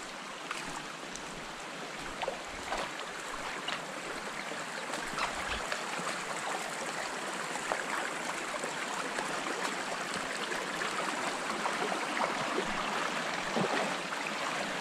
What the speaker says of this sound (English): I'm wading through the water,